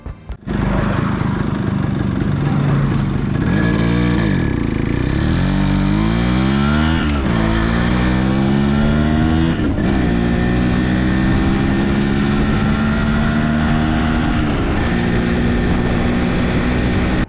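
A motorcycle ride captured by a GoPro's built-in mic, a loud, close engine drone throughout, rising and falling in pitch as it revs and shifts, with wind buffeting over it.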